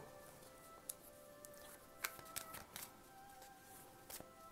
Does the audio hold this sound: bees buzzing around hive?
no